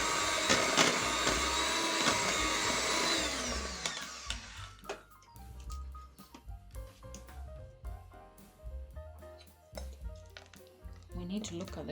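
An electric mixer beats butter until soft and fluffy for a vanilla gluten-free cake, running as a loud, steady whir for about four seconds. Clinks and scraping follow while a person talks.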